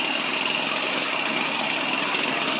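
A weed wiper's small engine idles right after a cold start, a steady, loud buzzing drone that holds even from start to finish with no voices over it.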